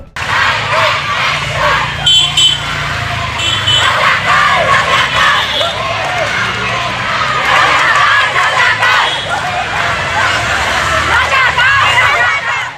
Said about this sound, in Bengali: ছাত্রছাত্রীদের মিছিল থেকে উঠল কেন রাজাকার স্লোগান